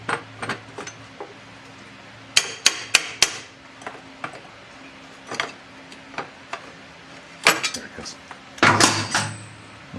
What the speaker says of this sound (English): Let me go get a little bit of a pry bar, tap behind it, and we'll drive it in.